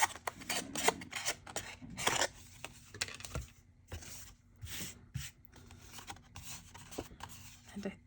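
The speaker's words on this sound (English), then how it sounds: "take the piece I cut out and kind of rub it along the inside to clean up any messy bits" A cut-out paper piece is rubbed along the inside edge of a faux stained glass junk journal cover, giving close, soft, irregular rasping and scraping strokes in short bursts.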